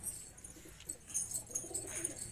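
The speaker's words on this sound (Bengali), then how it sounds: "কি হবে এগুলো? বাচ্চা পায়রা," Young giribaz pigeons coo softly in a loft, faint low murmuring calls repeating over background noise, with occasional chirps.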